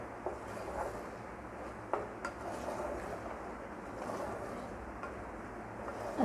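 A spoon scrapes and clinks against a pot while masoor pulao is mixed, with a handful of sharper taps standing out over a low, steady background hum.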